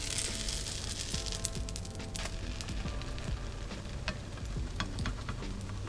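A keto pancake sizzles and fries in a pan, a steady close crackle with small pops throughout, faint and continuous with no one talking.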